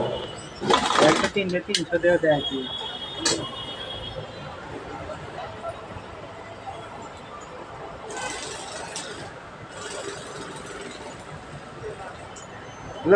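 Sewing machine stitching Toyota Hiace seat covers in a workshop, rapid mechanical chattering bursts at the start and again midway, over steady background noise and indistinct voices.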